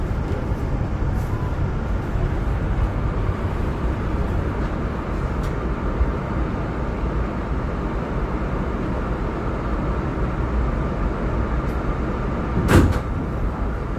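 A Kawasaki R211S subway train on the Staten Island Tottenville local, a loud continuous rumble of running on track with a brief knock near the end, no talking.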